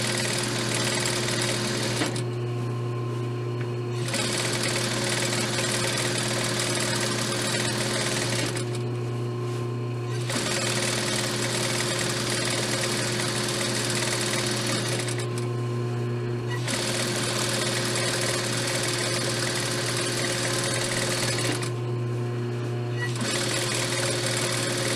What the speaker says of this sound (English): Put your back stitch and sew all the way around.